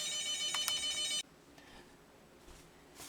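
A telephone ringtone sounds loudly for about a second and then cuts off abruptly, leaving quiet room noise with a few faint knocks.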